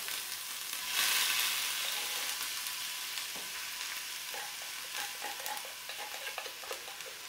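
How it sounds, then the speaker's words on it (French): Fataya filling fries in hot oil with a loud, continuous sizzle that surges early on, then settles into a steady crackling hiss with scattered pops and stirring clicks. "Alors donc là, on va mettre la fameuse préparation. Dans de l'huile chaude"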